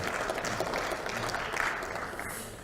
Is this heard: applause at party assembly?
yes